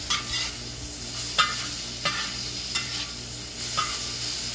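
Six slices of bacon frying in their own oil in a big discada wok, a constant sizzle punctuated by sharp scrapes of a Chinese stir-fry tool every second or so, with no voices.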